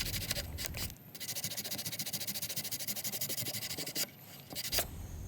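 Sander touching up a wooden half-lap joint, producing rapid rhythmic scratchy rubbing strokes against the wood, fairly close, with brief pauses and shifts in pressure.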